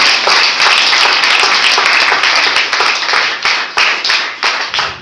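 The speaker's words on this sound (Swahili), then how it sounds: "Hebu tumpigie Bwana makofi." A church congregation claps loudly in a crisp, rhythmic beat of many hands together, the strokes steady at first and then thinning and fading in the final second.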